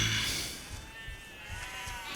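Sheep bleat faintly in the video game Overlord: Raising Hell, with a short, thin call or two rising over quiet game ambience.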